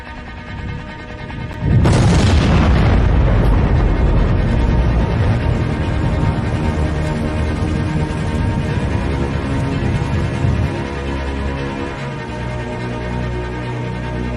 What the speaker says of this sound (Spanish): Estamos probando una nueva bomba pesada, la Terremoto.